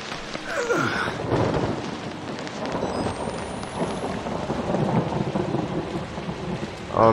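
Heavy rain pours steadily over a long rolling rumble of thunder, a thunderstorm heard in the horror game Outlast, with the storm sound continuing alone throughout.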